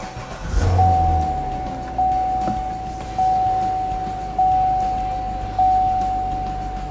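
A 2014 Corvette Stingray coupe with an automatic transmission fires up with a loud burst, then settles into a steady, close idle with a constant whine and a gentle pulse that swells about every second.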